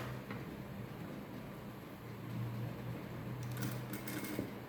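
A sewing machine stitches kurti fabric with a quiet, steady, rapid mechanical whir that runs continuously at a low level, with faint ticks from the machine in a quiet room.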